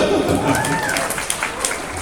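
An audience of teachers at an Indonesian literacy and numeracy seminar breaks into short, bright applause, with a brief tonal sweep and some talk mixed in near the start.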